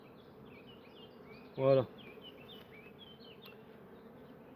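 Honeybees, including young bees, buzz softly around a nucleus hive in a steady, faint drone. A short, louder thump or burst cuts in near the middle, and thin high chirps sound in the background.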